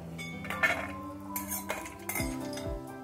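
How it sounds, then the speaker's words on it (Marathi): Homemade wheat-flour vermicelli being dry-roasted in a pan over low heat, with clinks and scrapes of a utensil against metal cookware in an uneven rhythm, close and moderately loud, no talking. "ह्यामध्ये शेवई थोडी भाजून घेते।"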